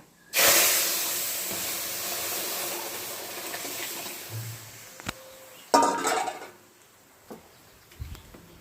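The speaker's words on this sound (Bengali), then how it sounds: "শুকনো লঙ্কা কালো সর্ষে খুব ভালোভাবে ভাজা হয়ে গেছে এবারে দেব সেদ্ধ করে রাখা আমডাল" Boiled mango dal poured into a hot tempering of fried dry red chillies and black mustard seeds, giving a loud sudden sizzling hiss that slowly fades, followed by a second burst of sizzle and a few light clatters.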